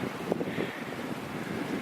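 Wind gusts among trees at the Great Dismal Swamp on a sunny, cold day, buffeting the microphone in a continuous, rushing roar.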